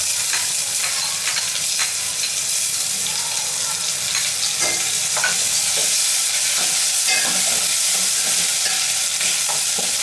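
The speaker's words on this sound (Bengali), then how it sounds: "এখন আদা রসুনটাও দিয়ে দিচ্ছি।" Ginger and garlic frying in hot oil with cloves, bay leaves, cinnamon and cardamom for vegetable pulao, a steady loud sizzle with stirring scrapes throughout, no voices.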